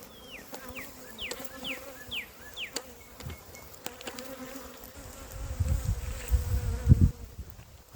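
Honey bees buzz in flight around the entrance of a beehive, several passing close with rising-and-falling whines over a steady hum, while a low rumble of handling noise builds toward the end.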